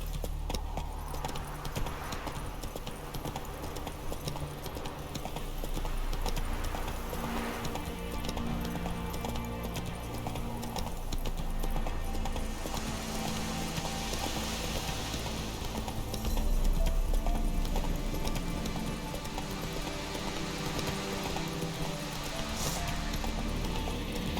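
Hooves clip-clop in a steady galloping rhythm as a horse runs in the video game The Witcher 3: Wild Hunt, moderately quiet under game music and ambience.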